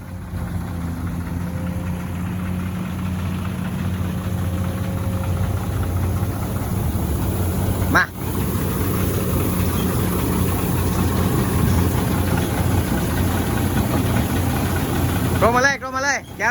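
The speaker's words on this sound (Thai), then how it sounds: "เคลื่อนรถค่อยๆเคลื่อนครับค่อยๆขยับครับ" Heavy engine idles steadily in the open while the vehicle slowly moves off, a low continuous rumble under frequent talk, with a brief sharp knock midway and another noise near the end.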